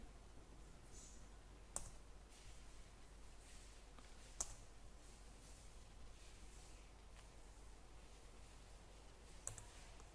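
Quiet computer mouse clicks sound at intervals, a few crisp isolated taps over a low steady hum, with no talking.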